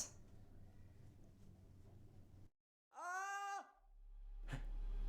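After a muffled stretch and a sudden silence, a single high, wavering scream rings out for about a second, followed by quieter rustling and a rising noise.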